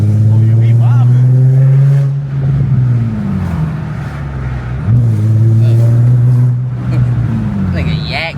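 A six-speed manual Infiniti G35 set up as a drift car drones loudly while driving, its engine note holding steady, then dipping and climbing again as revs change, with faint voices underneath.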